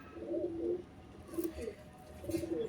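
A Madrasi pigeon coos close by in three soft, throaty phrases with short pauses between, alone without speech.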